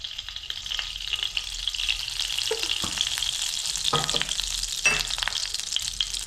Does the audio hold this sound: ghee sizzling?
yes